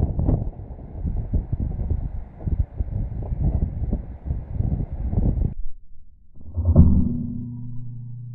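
Strong outdoor wind buffets the microphone in a steady low rumble for several seconds, then drops briefly before a deeper, heavier gust returns.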